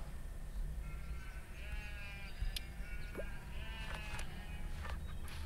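Cartoonish goat bleats from the farming game Hay Day, several short wavering calls scattered over a steady game backdrop with soft chimes, each bleat clear and close.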